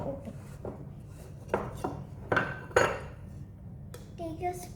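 Ghee bottle being opened in a home kitchen while making chocolate modak. A few short, close clicks and light clattering knocks, fairly quiet, with soft handling noise in between.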